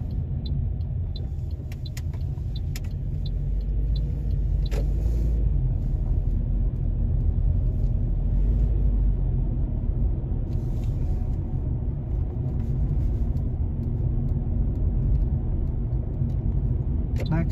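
Steady engine rumble and road noise from a car driving a suburban driving-test route, with continuous tyre hum and a few faint clicks, while a voice gives directions over it throughout.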